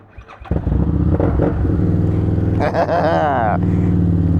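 A Harley-Davidson Street Rod 750 motorcycle engine starts and rumbles loudly up close with a deep, throaty idle and a brief rev partway through.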